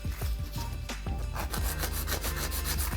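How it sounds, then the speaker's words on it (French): A nail file rasps across a Gel-X capsule nail in quick, steady back-and-forth strokes, close and continuous, with no voices. "Et on va limer un petit peu."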